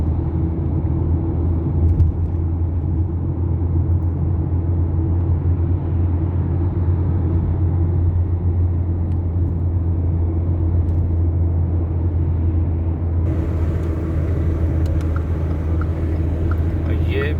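A car driving the short road home from Milan Malpensa airport, a steady low rumble of engine and tyres heard from inside the cabin, constant and close throughout.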